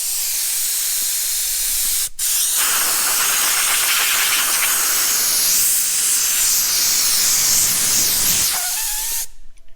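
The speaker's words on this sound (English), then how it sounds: "If I get the air nozzle. The noose. The nozzle on the end of the hose." Compressed air blasting from the nozzle of an air hose in a garage during a Nissan R31 rebuild, a loud continuous hiss with a short break near the start before cutting off at the end.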